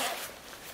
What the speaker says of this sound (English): Can you help me unzip?